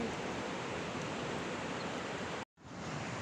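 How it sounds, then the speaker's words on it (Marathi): Flowing river water rushes as a steady, full hiss, close and unbroken apart from a brief dropout near the end, with no voices. "ही बघा आमची नदी"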